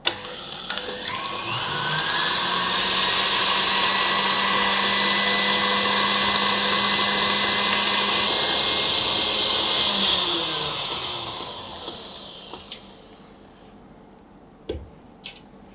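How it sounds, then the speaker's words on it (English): Electric mixer beating butter and shortening together for buttercream, a steady high motor whine that ramps up, holds loud for about ten seconds, then winds down, ending with a couple of faint clicks. "Now again I'm going to beat the butter and the shortening together until they are combined well"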